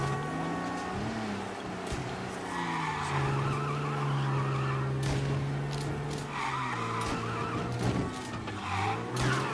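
A car driving in the Mafia video game, its engine droning steadily with shifting pitch and tires squealing and skidding through turns, loud and continuous throughout.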